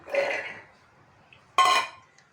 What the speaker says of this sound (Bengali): এখন নিয়ে নিচ্ছি মিক্সি বাটিতে।